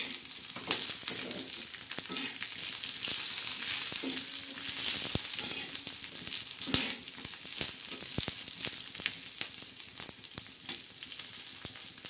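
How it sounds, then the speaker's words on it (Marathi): Garlic and spice masala roasting in a hot pan, a steady dry sizzle with frequent crisp pops and scraping stirs, moderately close. "आता आपण खमंग असा चांगला मसाला काळा भाजून घेणार."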